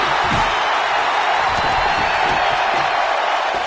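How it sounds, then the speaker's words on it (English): A virtual wrestling arena crowd in WWE 2K19 roars continuously, a dense, steady wall of cheering and noise with faint thuds underneath, loud and unbroken throughout. "Listen to this crowd."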